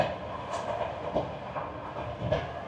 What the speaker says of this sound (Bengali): বিকাল 6:37 আমাদের ট্রেন ছেড়ে দিল সামারকান্দ স্টেশন